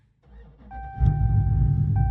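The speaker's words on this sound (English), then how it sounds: "The car does start up just fine." A Dodge Charger Scat Pack running an E85 conversion cranks and fires up, settling into a loud, steady idle after a short starter whir, close by with no talk.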